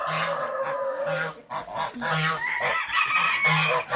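A flock of chickens squawks and clucks noisily up close, with honking, goose-like calls mixed into the continuous farmyard racket.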